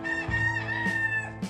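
A rooster kept in a backyard coop crows at close range, the long harmonic call rising and holding, with brief clucks breaking in near the middle and end.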